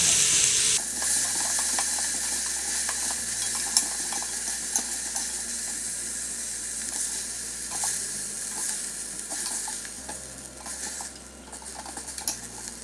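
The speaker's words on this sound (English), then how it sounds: "A little bit more oil so it doesn't smoke. We're gonna brown our oxtails." Oxtails brown in oil in an Instant Pot, a steady close sizzle and crackle with occasional stirring clinks, no talking.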